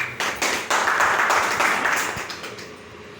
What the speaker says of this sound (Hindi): सर, ताली बजाइए।